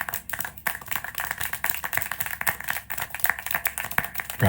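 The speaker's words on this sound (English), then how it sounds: "How can you clap?" Scattered hand clapping in the video game Syberia IV, a steady patter of claps at moderate level with faint voice traces underneath.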